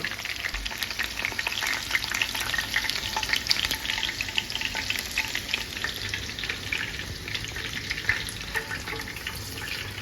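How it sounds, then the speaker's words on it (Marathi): Chicken lollipops fry in a pan over low heat, a dense, steady crackling sizzle with fine popping that carries on evenly throughout, close and alone without talk. "आता बारीक गॅस करून मी दुसऱ्या साईडी शिजवून घेते"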